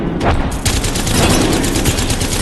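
Rapid automatic weapon fire in the battle royale game Apex Legends, a loud, close burst of dense shots running almost without pause.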